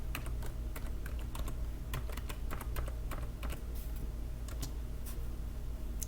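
Rapid keystrokes on a computer keyboard, a close and steady stream of irregular clicks over a faint low hum, with no voices.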